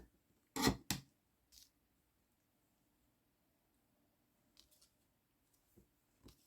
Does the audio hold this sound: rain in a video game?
no